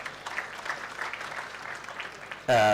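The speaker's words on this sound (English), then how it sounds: "A round of applause for Tiveta." Audience applause at a commencement ceremony, a broad steady patter of many hands clapping at moderate volume, cut off near the end as a voice begins speaking.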